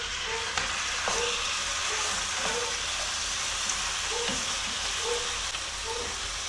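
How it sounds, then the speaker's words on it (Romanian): Chicken breast frying in hot oil in a saucepan, a steady loud sizzle and crackle with occasional pops, continuous and close. "După ce s-a încins, adăugăm pieptul de pui,"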